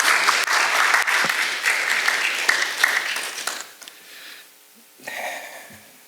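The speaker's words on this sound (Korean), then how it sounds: "박수로 맞이해 주시기 바랍니다." An audience at a seminar applauds to welcome the speaker, a dense burst of clapping that fades out, followed by a few faint scattered claps.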